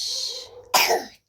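A child gives a single short, sharp cough up close in a quiet room, preceded by a soft breathy sound.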